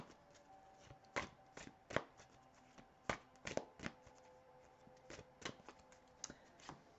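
Tarot cards being shuffled and pulled from the deck, crisp papery slaps and snaps in irregular bursts, close and quiet with short pauses between.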